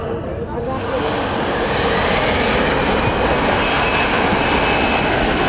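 A fixed-wing airplane taking off, its engines a loud, steady, close roar that swells slightly and stays dense throughout, with a faint voice briefly underneath.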